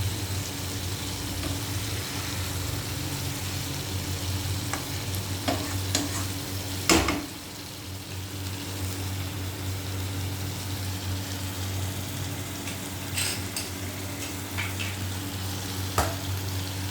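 Raw jackfruit curry with boiled eggs and spice paste fries in a pan, a steady sizzle under slow, gentle stirring with occasional louder scrapes.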